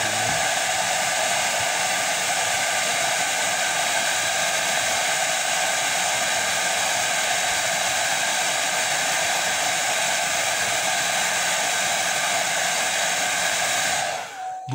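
A hair dryer blows over freshly painted ceramic, giving a loud, steady whooshing roar that holds for about fourteen seconds before it switches off abruptly at the end.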